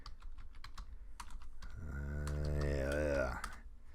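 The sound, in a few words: typing on a computer keyboard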